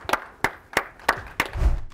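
Five slow, evenly spaced hand claps ring out close and distinct, followed by a low dull thump at the end.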